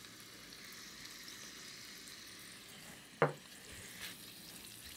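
Shrimp sizzle in a pan with salt and paprika, a soft, steady frying hiss broken by one sharp clack near the end, with no voices.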